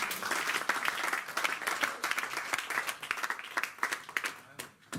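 A church congregation applauds and cheers in sustained, dense clapping, loud and fairly close, with voices shouting among the claps throughout.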